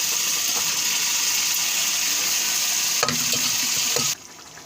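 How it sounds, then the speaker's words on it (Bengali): Tadka tempering hits a frying curry, producing a steady loud sizzle with a few utensil clicks and scrapes before the sound drops off sharply near the end. "এবার আমি তরকাটা দিয়ে দেবো"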